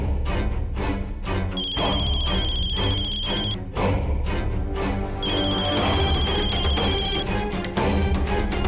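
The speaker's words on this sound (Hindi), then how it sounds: "फोन तो उठा यार" A telephone rings loudly in repeated electronic bursts of a high tone, two long ringing spells with a brief gap between, over a busy background of dramatic music.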